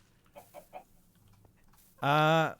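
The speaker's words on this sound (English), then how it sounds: "It's a chicken. It's not a fat parrot. It's a chicken." A chicken in a video game gives a few soft clucks, then a loud, drawn-out squawk near the end, close and clear with nothing else over it.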